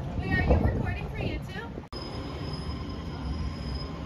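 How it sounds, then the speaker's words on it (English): Illinois Central train wheels squeal at the Homewood Park-N-Ride station, a steady high metallic screech that runs loud and continuous after a sharp cut, with voices heard briefly near the start. "There's the Illinois Central train."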